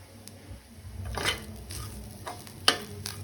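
Garlic cloves and ginger being stirred and roasted in a pan for a prawn masala, with a quiet sizzle broken by a few scraping stirs and a sharp utensil clink near the end.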